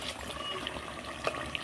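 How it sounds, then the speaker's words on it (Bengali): Water pours into a pan of browned, well-fried meat curry as a faint, steady trickling, fairly quiet, with a couple of small splashy accents near the end and no talking. "এবারে এর মধ্যে জল দিয়ে দেবো, দিয়ে ঢাকনা দিয়ে চাপা দিয়ে দেবো।"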